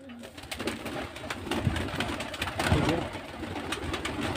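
Deshi giribaj pigeons coo softly and repeatedly close by in a village yard, their low throaty calls rising and falling over a steady background hum.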